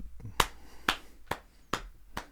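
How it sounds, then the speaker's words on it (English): Five sharp hand claps evenly spaced about half a second apart, close and crisp against a quiet background. "I can clap. I can clap normally."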